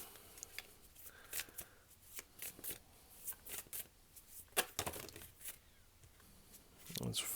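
A deck of Greater Oracle of Rama oracle cards gets shuffled in uneven bursts of papery riffling and slapping, with short pauses between and a louder flurry near the end.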